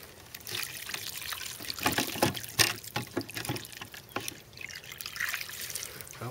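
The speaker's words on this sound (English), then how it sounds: "So I'm just going to go ahead and dump the water in and feed this plant." Water being poured by hand into the container of a tomato plant in a barrel aquaponics setup, a close, uneven trickling and splashing lasting several seconds with no talk.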